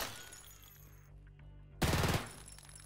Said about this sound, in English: here's the Glock 18 and the MP9 shooting just 6 rounds of rip